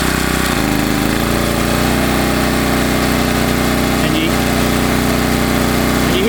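A WEN portable generator engine runs steadily on high, a loud, continuous buzzing drone with a slight shift in pitch early on as the load pulls on it.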